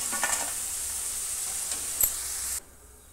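Taro (arbi) pieces sizzle steadily in hot oil over a high flame, with a few stirring scrapes, a dense close frying hiss that cuts off abruptly near the end.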